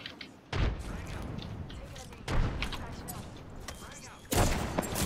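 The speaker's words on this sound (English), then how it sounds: "Grenades first, guys." Grenade blasts in the Apex Legends video game, three loud booming bursts about two seconds apart, each trailing into a long rumbling decay, with gunfire and player voices around them.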